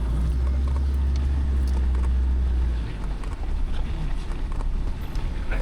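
A Land Rover Defender loses traction on a flooded, muddy Serengeti track in Tanzania: a loud, steady low engine drone for about three seconds, then rougher churning and wheel slip noise, with wind buffeting the microphone.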